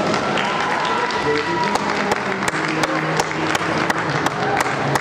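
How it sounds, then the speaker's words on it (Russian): Audience applause for dancers at a youth and adult dance tournament, a dense, steady clapping crowd filling the hall, with a voice over a loudspeaker and faint music underneath. "Эти громкие аплодисменты звучат для вас."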